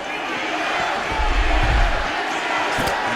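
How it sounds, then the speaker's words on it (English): Arena crowd roaring and cheering in the EA Sports UFC 6 fighting game during a Nate Diaz vs Chris Curtis bout, a dense steady wash of noise that swells midway, with commentary voices faintly mixed in. "the crowd pops in appreciation as the fighters work their way back"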